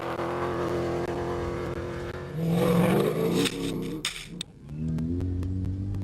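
A Toyota rally pickup truck's engine roars loudly, revving and surging as it drives past across a beach, with gravelly scraping and clattering underneath.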